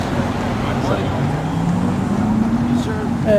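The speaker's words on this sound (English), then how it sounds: "There's cars across the street over there" Street traffic on Woodward Avenue rumbles steadily in the background, cars passing with a low continuous drone while someone talks over it.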